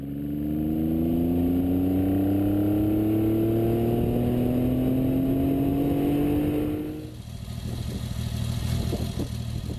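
A BSA Rocket 3 motorcycle from 1968 with a three-cylinder four-stroke engine hums loudly and close, its pitch climbing steadily as it accelerates, then dropping to a rougher lower drone near the end.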